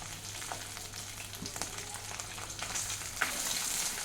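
Pabda fish frying in a pan gives a steady, soft sizzle with faint crackles throughout, fairly quiet and uninterrupted.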